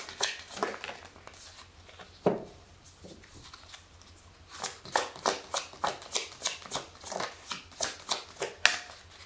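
Tarot cards are shuffled by hand in quiet, crisp riffles. A single snap comes early, then a quick run of rhythmic bursts follows in the second half, close up with no talk.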